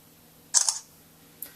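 A short electronic phone camera shutter click rings out once in a quiet room, followed by a faint tick a moment later.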